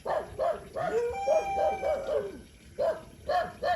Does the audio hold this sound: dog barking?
yes